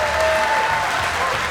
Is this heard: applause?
yes